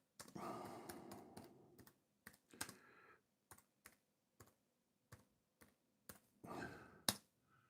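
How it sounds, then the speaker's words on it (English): Slow one-finger pecking on a computer keyboard produces sparse, separate key clicks at uneven intervals, close but quiet, mixed with a few short breathy rustles and a sigh-like exhale. "I'm just going to peck type, so I'll probably be an hour putting this in."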